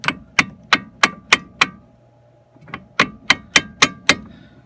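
A hammer striking Jeep XJ axle parts during a 1997 Jeep XJ U-joint and wheel bearing install, two bursts of sharp metallic blows, six then seven evenly spaced close hits with ringing decay and a short pause between.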